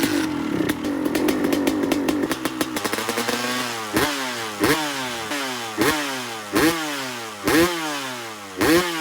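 A Kawasaki KX250 two-stroke dirt bike engine with a new snappy throttle, rising from a fast, buzzing idle into a series of sharp wide-open revs that climb and drop back, repeated roughly every second, loud and close.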